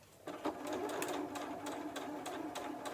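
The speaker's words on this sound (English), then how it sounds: "we're going to rest this onto the sewing machine, still using that 1/4 inch seam, and sew along that raw edge" A sewing machine stitches a quarter-inch seam along a raw fabric edge, running in a fast steady patter after a brief quiet start, close and clear with no talking.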